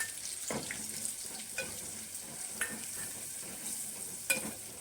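Spices being sautéed for fish curry sizzle steadily in a frying pan, with a soft, low frying hiss and repeated scraping clicks of a spoon stirring through them.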